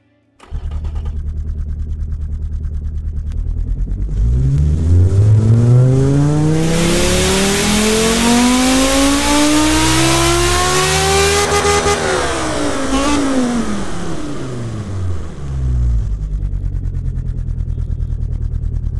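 A turbocharged 2.5-litre inline-five engine, fitted with a very large turbo and enlarged header, starts up, idles, then revs in one long climb before falling back to a steady loud idle, heard close with no talk.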